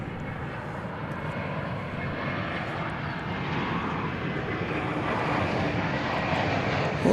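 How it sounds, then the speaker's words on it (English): An American Airlines Airbus A321 jet airliner landing at DFW Airport, a steady engine roar heard from a distance that slowly grows louder as it approaches, with no talk. "let's watch American Flight 2066 from Salt Lake City landing here"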